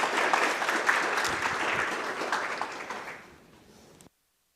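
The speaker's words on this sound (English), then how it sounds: "Please give them a warm round of applause." An audience at a spring senior recognition ceremony applauds warmly. The clapping is dense and steady, then thins out and stops abruptly near the end.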